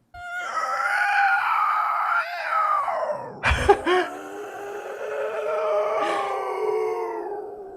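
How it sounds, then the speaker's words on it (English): A demonic scream from The Conjuring, processed with layered effects into a long, loud, warbling howl-like shriek with a sharp crash midway, continuing for several seconds. "a demonstration of how a sound mixer might take White's raw screams and add effects to make them more powerful"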